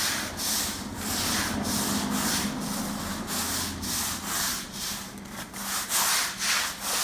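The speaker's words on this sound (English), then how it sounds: "let's take our Gorilla brush and let's start with this one" A stiff Gorilla brush scrubs a wet epoxy-coated garage floor in steady rhythmic strokes, close and fairly loud, with a rough wet swishing and no voices.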